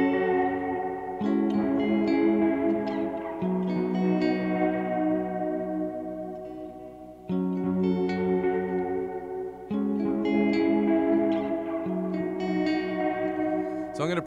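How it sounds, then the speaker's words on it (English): An electric guitar picks a repeating arpeggiated pattern through an amp's built-in spring reverb, the notes ringing and trailing off with a washy echo, close and steady, repeating twice with no talking. "that reverb that you're hearing on my guitar is built into the amp. It's what's called a spring reverb."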